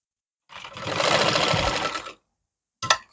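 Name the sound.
sewing machine stitching elastic on palazzo pants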